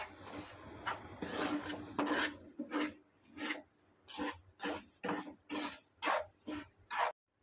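Rava semolina and coconut powder mixed together in a bowl for rava laddu: a rapid series of dry, gritty scraping strokes, steady and rhythmic, close by with no talk.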